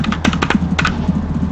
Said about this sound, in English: I also got a new keyboard.